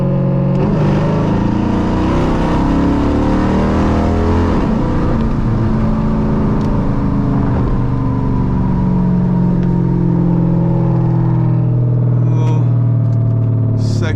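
A Dodge Challenger R/T with a very loud exhaust pulls hard in second gear on a night cruise, a deep continuous engine roar that climbs steadily in pitch, heard close from inside the car throughout.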